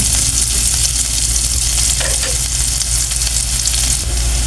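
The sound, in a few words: sautéing bean sprouts with tofu (ginisang togue with tokwa)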